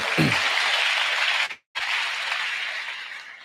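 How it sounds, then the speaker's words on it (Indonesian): An audience applauds a teacher at a school event, sustained dense clapping from a large crowd that breaks off abruptly for a moment and then resumes steadily. "Tepuk tangan dulu buat"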